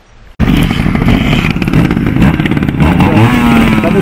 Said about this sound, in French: une séance d'initiation à la descente en moto et plus particulièrement moto de trial